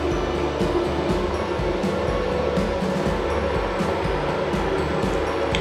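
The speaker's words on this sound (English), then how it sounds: "The exhaust is on. You may not see the rotation, but you can make out from the sound." An automatic toilet exhaust fan runs in a washroom, giving a steady, loud, continuous whirring drone with a low rumble and no pauses, heard alone without talk.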